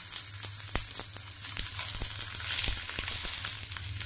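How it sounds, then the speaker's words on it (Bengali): Banana leaves fry gently in hot oil over low heat for cheese-stuffed fapa, giving a steady close sizzle with scattered sharp crackles and pops throughout. "কলার পাতাগুলোকে আস্তে আস্তে করে কম স্টিমে ভেজে নেব।"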